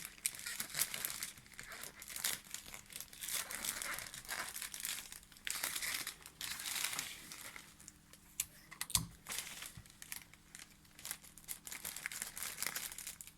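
Gift wrapping paper crinkles and rustles as it is folded, handled and fixed with sticky tape, a steady run of close, soft crackles and quick crisp taps with no talking.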